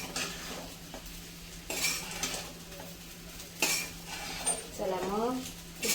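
Khichdi sautéing in a pan, with a soft continuous sizzle under repeated scraping and stirring strokes of a metal spoon against the pan, close by and moderately quiet.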